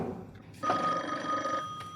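A telephone bell rings in a domestic scene, a steady electric trill that starts abruptly and holds loud for about a second before cutting off, with a quiet room tone before and a short echo after.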